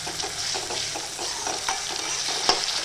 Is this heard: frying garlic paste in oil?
yes